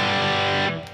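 A distorted electric guitar sustains a held chord through a delay effect, a brief thick loud wash that fades away at the end, with no talking.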